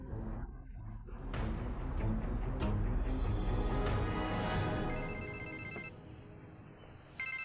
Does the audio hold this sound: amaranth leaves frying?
no